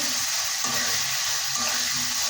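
Running water from a tap as onion, garlic and red lentils are rinsed, a steady close splashing hiss with no break and no talk.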